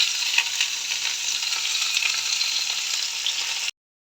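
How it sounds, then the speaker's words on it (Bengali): Drumstick pieces, potato and tomato frying with a bay leaf in hot oil, a steady close sizzle with faint stirring crackles, continuous and fairly quiet until it cuts off abruptly near the end. "নাড়াচাড়া করে একটু ভাজা ভাজা করে নেব।"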